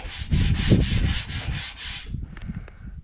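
Steel wool scrubbing vehicle chrome in rapid back-and-forth strokes, a close, gritty rasp for about two seconds, then a few softer scattered scrapes and taps.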